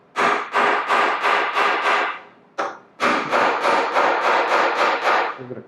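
Rockler bed hardware is tapped into a wooden bed part with a hammer, a close series of sharp, loud knocks in quick rhythm, a short pause, then another run of evenly spaced taps.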